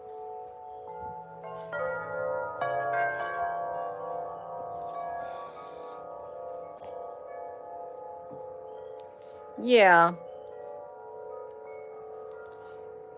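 Steady, high-pitched insect chirring, likely crickets, runs through the whole stretch at low volume, with a low hum underneath and one brief louder sweeping sound near the end.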